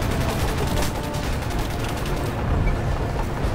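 Rapid bursts of automatic machine gun fire in the video game Crysis rattle continuously in a dense, loud barrage with a rumbling low backdrop.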